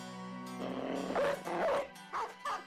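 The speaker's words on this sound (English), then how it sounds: "Okay, and you also have a dog" A dog in the video game Battle Brothers gives a few rough barks and yelps in short bursts, close and fairly loud over a droning game background.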